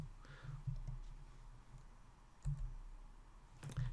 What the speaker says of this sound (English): we're going to start typing in